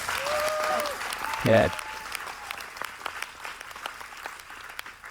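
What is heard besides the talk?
audience applause for North Village Church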